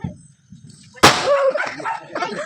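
A quiet low rumble, then one sudden sharp bang of a firecracker bursting during Diwali celebrations, followed by excited voices talking.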